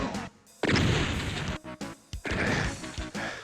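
Heavy gunfire from the video game Doom, loud blasting bursts and booming impacts in quick succession with short gaps between volleys.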